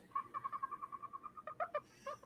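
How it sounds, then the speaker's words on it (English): Dodos from the video game ARK: Survival Ascended chatter in a quick run of rhythmic, clucking calls, steady at first and then breaking into a few louder, higher squawks, fairly close with no talking. "Dodos are just chattering away here."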